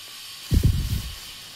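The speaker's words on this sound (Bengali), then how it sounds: "গ্যাস ধরাইছি" Gas stove burner being lit in a home kitchen, a short close whoosh of igniting gas with a couple of quick low puffs that settle into a soft steady hiss.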